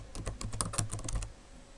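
Typing on a computer keyboard while entering a journal entry in accounting software, a quick run of soft, close key clicks that stops after about a second, quiet and without talk.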